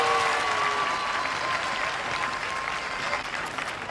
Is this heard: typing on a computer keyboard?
no